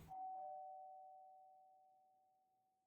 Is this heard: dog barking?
no